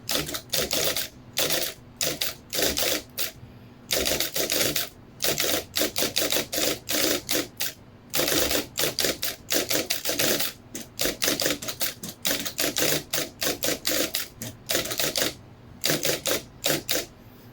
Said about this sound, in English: So first we will type some text.